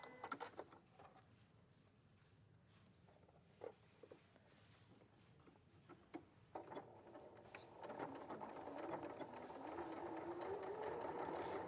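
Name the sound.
sewing machine stitching a seam in fabric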